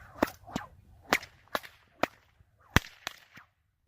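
Sharp bullwhip cracks from a Joseph Strain bullwhip snap out about eight times at irregular intervals, loud and close, each a crisp isolated report with quiet between.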